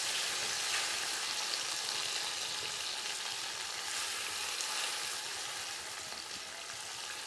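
A pan frying for a jalfrezi curry gives a dense, even sizzle that stays loud and steady throughout, with no voices.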